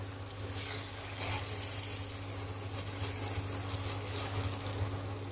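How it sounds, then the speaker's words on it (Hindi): Puris for pani puri fry in a pan of hot oil at home, giving a steady close sizzle and bubbling with a low background hum and no voices. "अब हम सभी को इसी तरह से तल लेते हैं, सभी को फ्राई कर लेंगे इस तरह से।"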